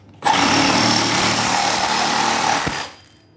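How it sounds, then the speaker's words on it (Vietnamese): A Makita 18V brushless reciprocating saw runs in one loud, steady burst of about two and a half seconds, with a sharp start and a tapering stop. "Cưa kiếm 18V không chổi than của Makita."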